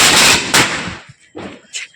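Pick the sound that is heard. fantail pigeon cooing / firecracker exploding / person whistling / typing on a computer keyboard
firecracker exploding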